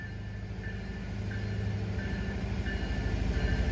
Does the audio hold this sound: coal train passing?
yes